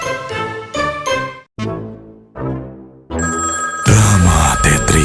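A telephone rings in a Telkomsel ad, a loud melodic ringtone repeating in short bursts with brief gaps, then a denser, louder burst of ringing with music at the end.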